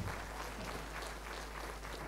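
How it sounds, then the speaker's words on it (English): Audience clapping at a university inaugural lecture, a brief, dense round of applause from a seated crowd with a steady low hum beneath it, heard alone without speech. "Can we give them a round of applause, please?"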